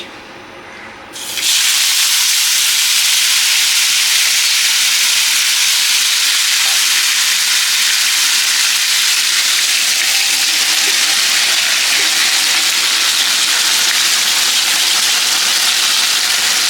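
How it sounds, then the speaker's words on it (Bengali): Marinated okra hits hot oil in a wok, a sudden loud frying hiss that starts after a brief quiet moment and then holds steady and close, with no one talking. "এইবার এই তেল দিয়েছি কড়াই, তেল গরম হয়ে গেছে, এটা দিয়ে দিচ্ছি।"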